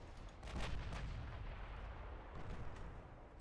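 Battleship main guns firing in a naval video game, heavy booming blasts rolling together over a thick low rumble, a couple of sharper reports within a dense, sustained roar.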